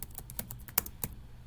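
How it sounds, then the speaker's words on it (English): Keys clack on a computer keyboard while notes are typed into a OneNote notebook, with irregular close taps and a few sharper strokes, no speech over it. "I'm going to go ahead and type so you can see how the text works when you're typing in a OneNote notebook"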